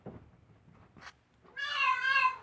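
A pet cat meows once in a long, drawn-out cry at close range, after a few faint scuffling sounds, with no talking.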